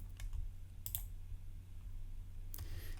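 Computer mouse clicks on buttons in the Entry coding editor: a few crisp, isolated clicks, close and clear, spaced out over a low steady background hum.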